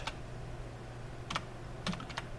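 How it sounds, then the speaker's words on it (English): Keys tap on a computer keyboard while a Python file name is entered, a few sparse clicks spaced out over a low steady hum. "Now let's type in arithmetic,"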